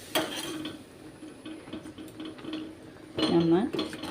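Metal utensils clink and scrape against a pot of lentils being stirred in a few bursts, with a louder clatter near the end and a voice speaking briefly.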